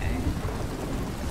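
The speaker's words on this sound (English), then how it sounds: "I can do without the rain." Steady rain with a low thunder rumble in the Western stealth game Desperados 3, a loud, continuous broadband wash filling the whole moment with no voices over it.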